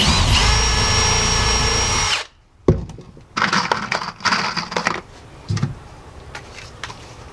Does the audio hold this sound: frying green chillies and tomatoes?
no